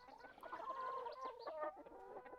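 Backyard chickens cluck softly and close by in a short burst of murmuring, with no talk.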